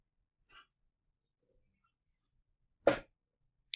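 A single short, sharp sneeze bursts out in an otherwise quiet classroom, preceded by a faint soft breath or sniff.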